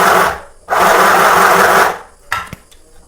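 A mini sewing machine stitching fabric runs in two bursts, a short whir and then a longer steady buzz of about a second and a half, close and loud, followed by a few small clicks and handling noises.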